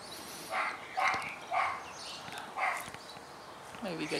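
A dog barks in a steady series of four or five sharp barks spaced about half a second apart, fairly close and loud, with some background movement.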